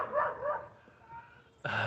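A dog in Silverton, Colorado gives whiny, drawn-out yips followed by a sharp, louder bark, close by.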